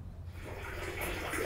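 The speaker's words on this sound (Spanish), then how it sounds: "el agua corre por el tubo y va corriendo por allá hasta bajar a donde está la cisterna" Rainwater from a harvesting system runs through pipes down into a cistern, a steady rushing flow that grows slightly louder and brighter, with no one talking.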